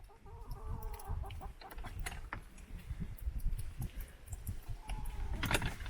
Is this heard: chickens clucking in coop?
yes